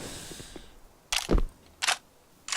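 Sharp gunshots in Counter-Strike on the Nuke map during a headshot: three distinct loud cracks spaced unevenly over a quiet background, with a heavier thud under the second, no talk.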